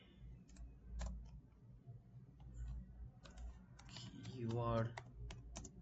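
Quick bursts of keystrokes rattle on a computer keyboard as commands are entered in MATLAB, close and fairly soft, broken by short pauses while someone speaks over them.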